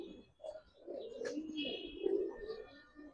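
Indian breed pigeons for sale cooing softly in low, rolling murmurs, faint and close, with a few brief chirps in a quiet setting.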